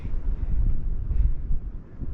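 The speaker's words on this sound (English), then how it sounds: "it is a little windy" Heavy gusting wind buffets the microphone on a mountaintop along the Appalachian Trail, with deep, rumbling roars that rise and fall continuously, loud and close.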